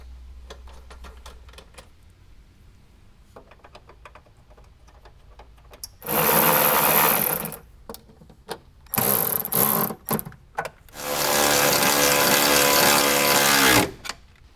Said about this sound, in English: we need to go ahead and bolt those down